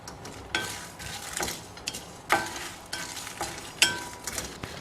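Urad dal and chana dal dry-roasting with red chillies in a pan for milagai podi, with a faint sizzle and repeated scraping, rattling strokes of a spoon stirring the lentils at an uneven rhythm, close and clear.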